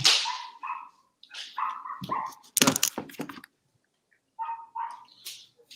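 A dog barking outside in short, sharp bursts, a few grouped barks followed by a pause and another pair, fairly close and distinct against near silence.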